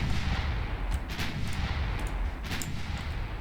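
Naval guns fire on a light cruiser in the video game Ultimate Admiral Dreadnoughts: a few sharp booming shots ring out over a constant low rumble of battle.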